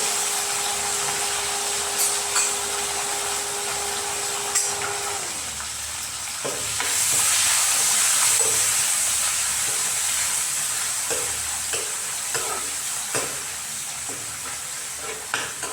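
Ingredients for a fish curry with coriander and chilli sautéing in a pan, a steady close sizzle with occasional scraping stir clicks, briefly swelling louder midway.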